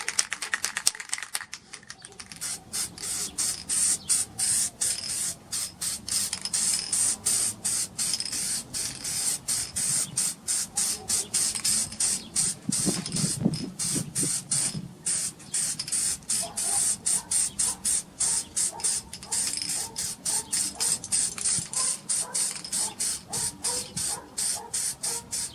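Permatex copper gasket sealant is sprayed onto a Mazda Miata head gasket in many rapid, close, hissing bursts, a fast rattling spray rhythm that runs almost without pause, and no one speaks.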